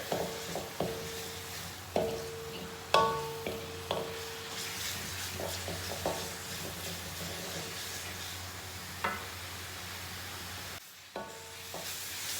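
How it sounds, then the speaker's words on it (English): Blended spices for prawn biryani stirring and frying in a pan, a steady low sizzle broken by intermittent scrapes and clinks of the spoon against the pan, moderately close with no talk. "So after a minute, I'm adding in the blended spices. Give them a good stir."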